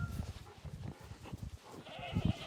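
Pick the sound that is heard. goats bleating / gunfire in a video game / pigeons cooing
goats bleating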